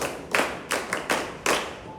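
A handful of loud, close claps, about five, land at an uneven rhythm during a school teaching presentation, each with a short room echo.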